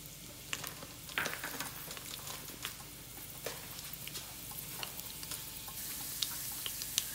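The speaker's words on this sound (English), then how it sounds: "Once the oil is hot, add mustard seeds. After they splutter, add cumin seeds." Mustard seeds splutter in hot oil in a pan while dosa filling is made, a steady fine crackle scattered with sharp pops and ticks, close and fairly quiet, with no talk.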